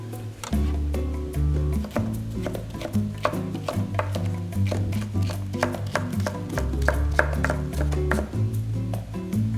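A knife slices food into thin strips on a cutting board for chili con carne, producing a quick, regular series of crisp chopping taps over several seconds, close and clear, with background music underneath.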